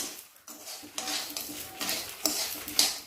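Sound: spices being fried and stirred in a pan

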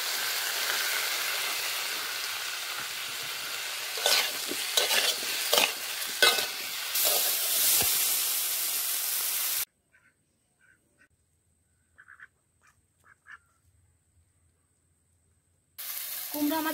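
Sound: pumpkin and fish curry being sautéed and stirred in pan

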